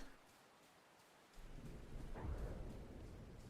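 Thunder rolls through a video-game storm over steady rain. Soft rainfall comes first, then a deep rumble swells in and peaks with a heavy crack before continuing to growl under the rain.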